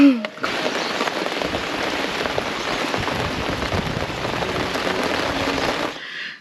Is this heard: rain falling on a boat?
yes